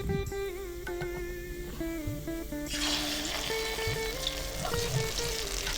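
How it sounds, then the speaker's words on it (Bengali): Mustard oil heats in a wok before eggs go in, a steady crackling sizzle that grows denser and louder halfway through, with small clinks; no one speaks. "সর্ষের তেলটাকে দেখো ভালোভাবে কিন্তু গরম করে নিচ্ছি"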